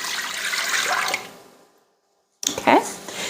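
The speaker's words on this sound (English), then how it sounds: "the next thing is 18 ounces of water" Water poured into a cooking pot while making barbecue beef, a running splashing pour that fades to silence, then a brief closer clatter and splash.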